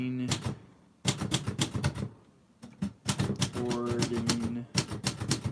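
A typewriter clacks in close, quick bursts of keystrokes separated by short pauses, with a carriage bell-like ring partway through and a faint voice in the background.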